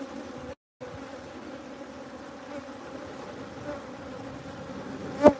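Bees humming around a hive box at a bee sanctuary as spring warms, a steady close drone with individual buzzes passing, and a louder buzz right near the end.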